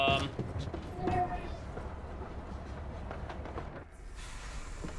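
A train rolls along in the video game Voidtrain, a steady rumbling clatter of rail noise that fills the scene and eases briefly near the end.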